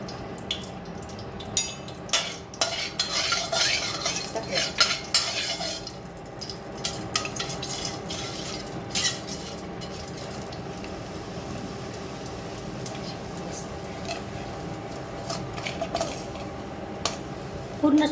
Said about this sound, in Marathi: पूर्ण सुगंध येऊपर्यंत आपल्याला रवा भाजायचा आहे.